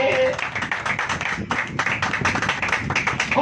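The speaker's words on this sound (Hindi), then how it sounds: "ताली बजाइए" A church congregation claps together in a quick, rhythmic patter that continues for several seconds, mixed with a speaking voice.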